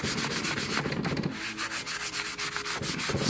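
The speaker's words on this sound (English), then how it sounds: "sand down the oxidation that remains" Steady wet scrubbing of a sanding sponge on an aluminum scuba tank, sanding off oxidation, a rapid rhythmic back-and-forth rasp, close and loud, with no talking.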